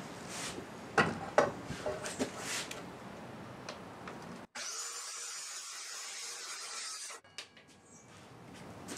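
Wood being cut for an ottoman shelf, heard as a scraping, rasping saw-like sound with ticks and knocks at first, then a sustained high whine of a power tool that cuts off abruptly before quieter noise resumes.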